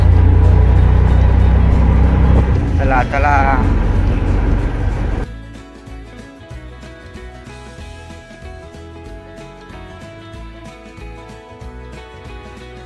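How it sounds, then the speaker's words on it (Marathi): An auto rickshaw engine runs loud and close with a steady low rumble for about five seconds, then drops to a quieter idle with tonal hum; a voice briefly calls out during the ride. "आता आहे ना बघा रिक्षाचा प्रवास"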